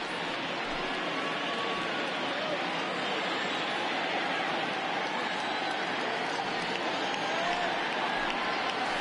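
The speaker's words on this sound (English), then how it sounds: "Yeah, I can hear the crowd murmuring now, wondering if he hit him on purpose." Steady crowd murmur in a baseball video game on PS4, a dense, even stadium wash of many voices that holds at one level throughout.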